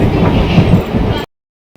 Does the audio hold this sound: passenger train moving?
yes